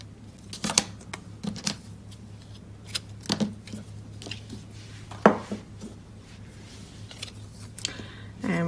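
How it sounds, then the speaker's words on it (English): Scissors snip off ribbon tails during card making, a handful of short, sharp crisp cuts spaced irregularly over a quiet room hum. "I'm going to cut my tails off."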